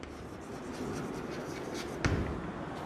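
A pen or marker writes by hand during a maths lesson on exponents, making brief soft scratching strokes with a sharper tap near the end, close and fairly quiet, with no talk.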